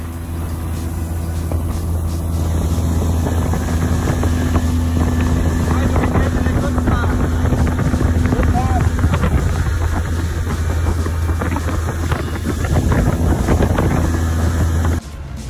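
A motorboat speeds along a narrow river through Australian bush, its loud steady engine drone running continuously with rushing water and wind buffeting the microphone throughout.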